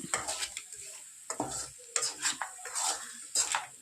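Bursts of spatula scraping and stirring mutton curry in a pan with a light sizzle underneath, irregular strokes, close by.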